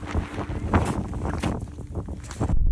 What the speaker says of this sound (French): Il fait grand beau mais ça souffle énormément à la montée.